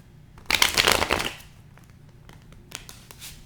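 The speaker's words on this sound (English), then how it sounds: "One last shuffle for my Aquariuses." Tarot cards shuffled in one brisk riffling burst lasting about a second, close and fairly loud, followed by a few faint card taps and handling sounds in near silence.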